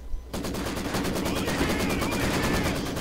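An incendiary artillery barrage in the WWII strategy game Company of Heroes starts abruptly after a short quiet moment, then turns into a steady, rapid string of loud explosive bursts that keeps pounding without a break.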